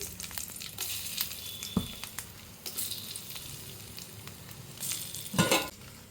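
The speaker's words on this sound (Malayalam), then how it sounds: "നല്ലെണ്ണയാണ് ചേർക്കുന്നത് കുറച്ച് കടുക് ഉണക്കമുളകും കൂടെ ഇടുന്നുണ്ട് ഇതിലേക്ക്" Mustard seeds and dried red chillies fry in hot sesame oil for a Kerala pulinji, giving a steady close sizzle with scattered sharp pops and crackles and a louder burst of spitting near the end.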